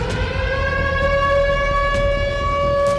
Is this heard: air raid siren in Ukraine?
yes